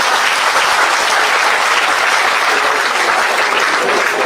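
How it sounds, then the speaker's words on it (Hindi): A large crowd at an outdoor political rally in a village claps loudly and continuously, a dense, close burst of applause with no voices over it. "क्यों ताली बजावे हैं"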